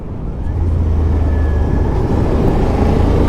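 Suzuki SV650 motorcycle on a test ride, a steady loud engine drone with road and wind rush that holds evenly throughout, with no talking.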